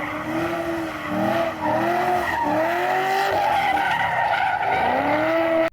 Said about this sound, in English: Stomp the throttle and it roars.